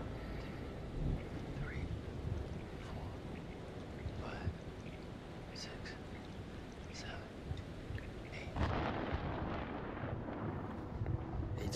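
A distant thunderstorm about eight miles off, with low rolling rumbles under steady rain-like noise, with some speech in the clip.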